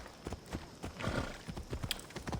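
Horse hooves trot in a steady clip-clop rhythm in the video game Assassin's Creed Odyssey, quiet and repeated with some faint background noise.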